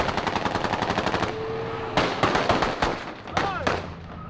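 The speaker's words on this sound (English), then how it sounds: "Soon, a full-scale street battle." Gunfire in a street battle in Libya: rapid automatic bursts rattle close by, then give way to scattered loud single shots and cracks with a faint whistling tone, all against background noise.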